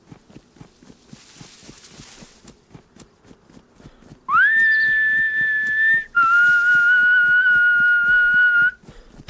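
Two long, loud, steady whistles ring out one after the other, the second slightly lower in pitch, over a soft, rhythmic background of footsteps or hoofbeats, heard inside a DayZ survival game on the Alteria map.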